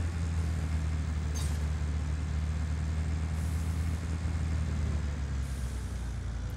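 A truck drives in the video game Just Cause 4 with a steady, heavy engine rumble that holds close and even throughout, with faint higher noise drifting above it.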